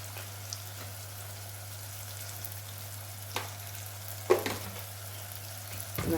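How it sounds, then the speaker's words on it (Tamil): Masala for a tamarind-free kuzhambu kurma, with curry chilli powder added, stir-fried in oil in a pan. A quiet steady sizzle runs under a low constant hum, broken by a few soft clicks and one sharper stir around the middle. "நல்லா மசாலாவை இந்த எண்ணெயிலேயே பரட்டி விட்டுலாம்"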